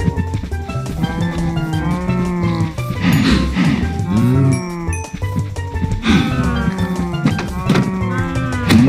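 Cows in the video game Minecraft moo repeatedly, several loud, close, drawn-out calls overlapping one another against a steady game background, with no talk.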